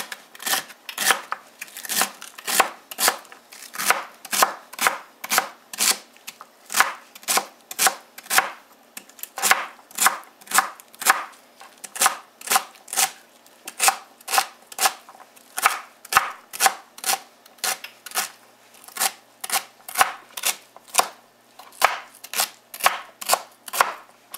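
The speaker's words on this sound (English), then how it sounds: "So I'm going to go ahead and chop that up." A knife chops celery ribs with their leaves for fish chowder, producing a long, steady run of crisp, evenly spaced cuts against a cutting board, each one close and distinct.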